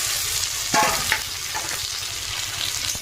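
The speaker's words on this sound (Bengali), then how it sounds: "কড়াইতে দিয়ে দিলাম পেঁয়াজ লঙ্কা তো লাল লাল করে ভেজে নেবো" Onions and chilies fry in a wok for a spicy potato dish, with a loud, continuous sizzle and sharp stirring scrapes near the start, close by.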